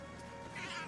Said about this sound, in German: Hört sich halt noch immer an wie gequälte Katzen.